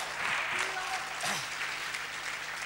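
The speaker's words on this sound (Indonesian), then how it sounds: "Tepuk tangan yang meriah bagi Allah kita." Church congregation clapping in praise, a continuous moderate wash of applause with faint voices and a low hum running underneath.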